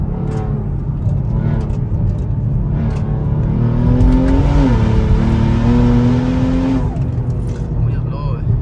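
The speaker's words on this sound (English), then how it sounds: "I want to see a little pull, second gear pull." A Kia Stinger engine revs hard and climbs in pitch as it accelerates in second gear, loud and close, with a short lull before the sound carries on.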